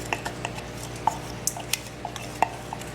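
Utensils scrape and clink against a bowl as minced chadon beni for a chunky Trinidad pepper sauce is transferred across, with sharp, irregular metallic taps and soft stirring sounds, close and fairly quiet.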